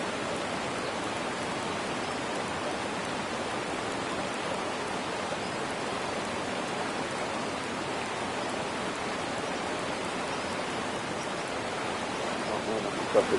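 A loud waterfall in the fishing video game Fishing Planet rushes as a constant, dense hiss of falling water, steady throughout with no pauses.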